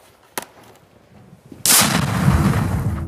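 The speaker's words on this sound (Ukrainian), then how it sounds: "По Донецькому і Маріупольському напрямках лунають постріли." Gunfire and artillery in the eastern Ukraine war zone, along the Donetsk and Mariupol front: a single sharp shot, a lull, then a loud, sustained roaring blast of heavy fire with no talking.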